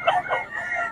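Chickens at a Bocaue market give brief clucking calls, two quick squawks and then a drawn-out cry, heard close over a busy background.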